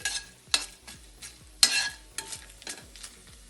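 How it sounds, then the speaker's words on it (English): Red chilli frying in oil, a quiet steady sizzle punctuated by rhythmic stirring scrapes and taps of a spoon in the pan, with no talk. "This red chilli should be very well fried. Red chilli has to be crispy."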